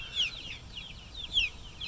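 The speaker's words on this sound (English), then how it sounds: "You see all these little chicks running around." Small chicks on grass give repeated high, thin cheeping peeps at close range, soft and scattered over a quiet outdoor background.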